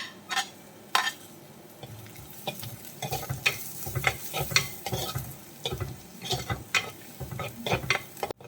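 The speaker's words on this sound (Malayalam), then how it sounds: "സവാള ഒന്ന് വാടിക്കഴിഞ്ഞാൽ നമുക്ക് ഒരു 2 പച്ചമുളക്, 2 നീളമുള്ള 2 പച്ചമുളകാണ്, അത് മുറിച്ചത് നമുക്ക് ഇട്ട് കൊടുക്കാം" Onion and green chillies sauté in a pan for a tuna coconut milk curry, a soft continuous sizzle with repeated scraping stirs and spoon clinks against the metal, close and without speech.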